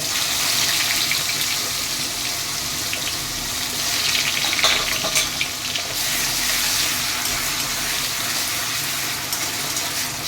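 Onion paste frying in hot oil with bay leaf and whole cumin, a steady close sizzle and hiss with occasional stirring scrapes, alone without talk.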